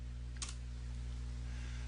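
A single quick keypress on a computer keyboard while working in AutoCAD, a faint isolated click over a steady low electrical hum.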